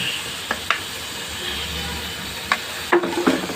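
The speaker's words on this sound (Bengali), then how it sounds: "এই যে দেখেন, আমার ইলিশ মাছগুলো আমি ভেজে নিচ্ছি।" Hilsa fish fry in hot oil, a steady close hiss and sizzle with a few sharp pops and spatters scattered through it, and no talking.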